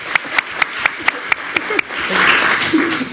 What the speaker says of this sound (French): on peut l'applaudir en effet.